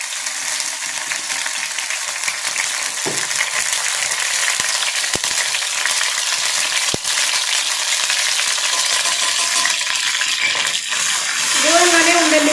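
Hot oil sizzles loudly and steadily after blended aloe vera mixture is poured in, with a few sharp clinks from a utensil and a brief voice near the end.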